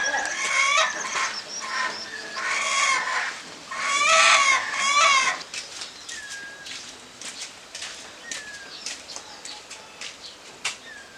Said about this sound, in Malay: Gadang hati ayam Pak Ji mencalek